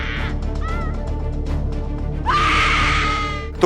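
Women screaming in panic as people run about in a chaotic scene: shrill, wavering cries rise over a steady crowd din, with one long piercing scream swelling loudly near the end.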